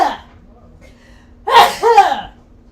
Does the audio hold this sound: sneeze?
yes